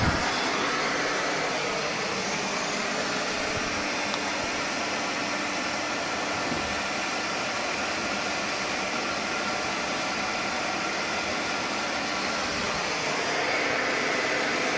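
A Record Power CamVac wall-mounted woodworking dust extractor runs on one motor, giving a loud, steady broadband roar that holds unchanged for the whole stretch without speech.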